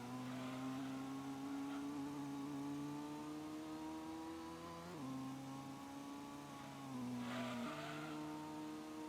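A race car engine from the Gran Turismo game drones steadily at high revs, holding gear with small pitch dips where it shifts, and the tone rises again. The sound is continuous, comes through a game mix and has no voices over it.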